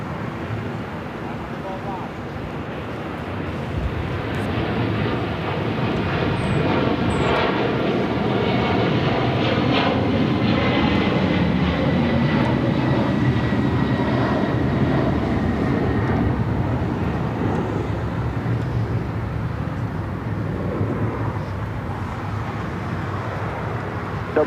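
A Delta heavy jet airliner departing LAX, a sustained loud engine roar building and holding over a long stretch, steady and broad, with distant outdoor ambience.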